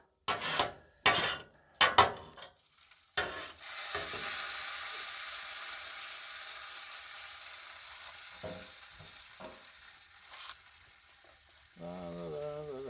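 Bacon grease sizzles and pops across a Blackstone griddle, with sharp scraping and stirring bursts early on, then a steady hiss of frying, a few clanks of a utensil, and a brief tonal sound at the end.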